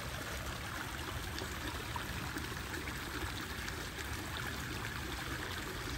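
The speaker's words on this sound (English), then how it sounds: "the creek flows and gets to this spot" Creek water runs steadily in an outdoor property setting, a continuous close trickling and burbling rush with no pauses and no voices.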